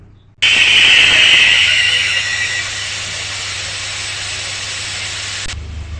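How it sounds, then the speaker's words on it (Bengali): Pressure cooker on a stove, cooking mixed vegetable dal, lets out a loud, sharp whistle that bursts in suddenly, shrieks for about two seconds, then eases into a steady steam hiss that lasts until it cuts off. "দেখুন ডালটা সিটি মেরে নিয়েছি।"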